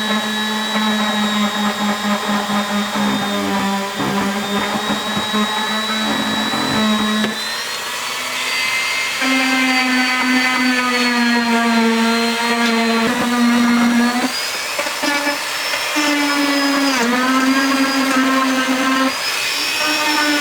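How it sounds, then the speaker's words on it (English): A Dremel rotary tool grinds a U-groove into a plastic C5 Corvette bumper, giving a steady, loud high-pitched whine that shifts pitch slightly as the load changes and runs continuously on its own with no talk. "used the Dremel tool to cut out, or kind of just ream out a U-groove"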